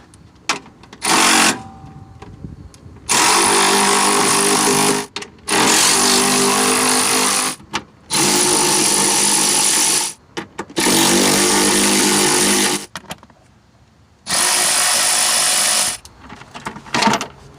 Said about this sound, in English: Then use an 8mm socket to remove the 4 fasteners.